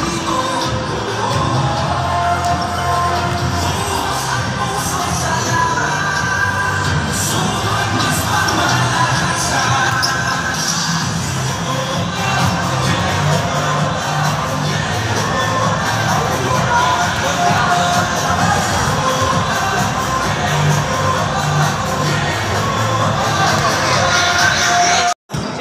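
Loud, continuous crowd roar and cheering fill a school gym during a neighborhood youth league basketball game, with shouts, whoops and children yelling layered over a dense babble that holds steady throughout.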